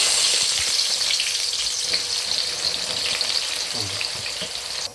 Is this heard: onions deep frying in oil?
yes